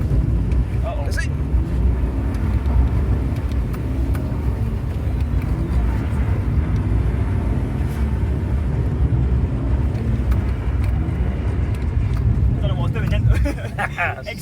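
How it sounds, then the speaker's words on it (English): BMW E46 Compact 325ti at a drift day doing skids, a loud continuous engine roar mixed with heavy wind buffeting and rumbling noise, with brief squealing bursts near the end. "I'll put a clip in of some skids where I was trying."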